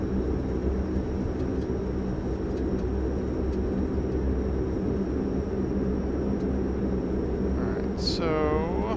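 Steady broadband roar of a Dash 8 turboprop on its takeoff roll, heard from inside, loud and continuous with a constant high whine, and a voice briefly near the end.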